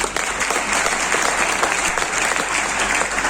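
An audience at a motivational training session bursts into loud, dense, continuous applause that fills the room steadily, with no speech over it.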